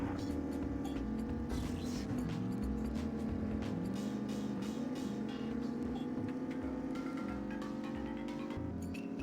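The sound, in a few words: racing car engine from a video game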